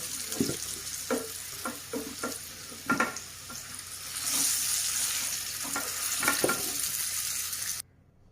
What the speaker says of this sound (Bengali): আলুগুলো লাল লাল করে ভাজা হয়ে গেছে, এবারে সব একে একে তুলে নেব।